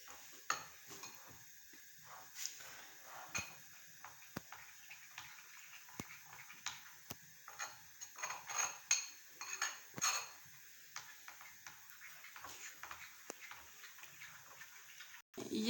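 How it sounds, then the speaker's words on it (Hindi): Spoon mixing custard powder into milk in a bowl, quiet irregular clinks and taps of metal against the bowl at close range, some sharper knocks scattered throughout. "ये देखिए कस्टर्ड को हमने दूध डाल के मिक्स कर लिया है।"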